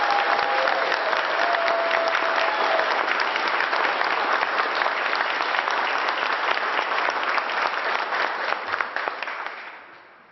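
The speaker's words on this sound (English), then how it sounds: "Let's give our new fire chief a round of applause." An audience applauds the newly sworn-in Baltimore fire chief at an official ceremony, a dense steady clapping that holds loud for about nine seconds before fading out.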